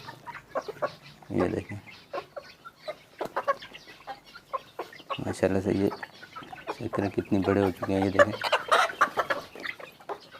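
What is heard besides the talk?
chickens, hens and rooster clucking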